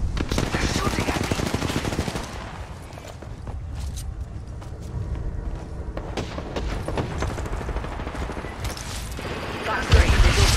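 Rapid gunfire bursts and booms fill an Apex Legends match, dense and loud almost throughout, with voices talking over the shooting.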